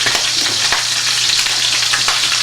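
Chicken breast frying in a pan while browning and caramelizing, with a loud, dense, continuous sizzle and a few crackles and stirring sounds, with no talk.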